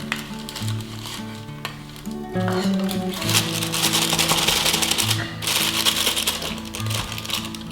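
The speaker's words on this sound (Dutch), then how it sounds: "Eens even roeren" Dye for Easter eggs is stirred in a cup, giving busy clinking and scraping, close and fairly loud, over a background of music.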